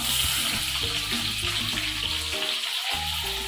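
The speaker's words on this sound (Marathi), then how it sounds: "आता आपलं तेल गरम झालेलं आहे त्यात आपण घालूया कांदा" Onion drops into hot oil for a village-style chicken vada, and a loud, steady hiss of frying fills the whole span. A brief dip near the end interrupts it.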